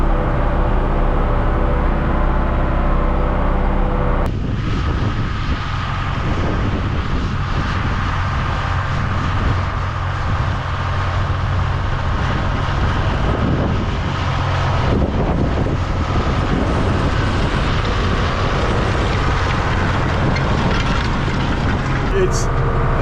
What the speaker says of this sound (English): Big diesel engine sounds pretty nice.